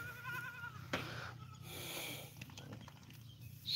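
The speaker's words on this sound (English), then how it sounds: "Oh baby goats. Lot of beautiful sounds." Young goats bleat on grassy open ground, with a wavering cry up close at the start followed by softer bleats and snorts amid quiet outdoor ambience.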